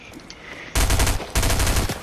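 Fortnite gunfire erupts in two loud, close bursts of rapid automatic shots, separated by a brief gap.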